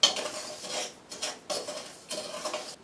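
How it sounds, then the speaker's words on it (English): Salt being heated and stirred in a pan, with scraping, gritty strokes of a utensil against the metal coming in several close bursts separated by brief pauses, with no voices. "then you throw in the salt and you heat it up and just stir it"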